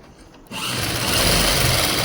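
A sewing machine starts up after a quiet moment and runs steadily, stitching cloth over foam while making Afghani trousers, with a close, continuous whirring hum and no talking.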